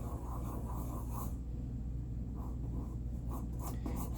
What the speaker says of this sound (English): And this is just roughing in pencils.